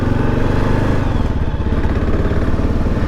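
Kawasaki KLR650 motorcycle pulling away, its steady mid-pitched engine drone loud and close with a slight rise as it gets under way, continuous throughout with no talk.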